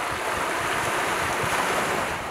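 Sea waves wash against the coast of the Sea of Japan under constant wind buffeting the microphone, a loud unbroken roar without voices.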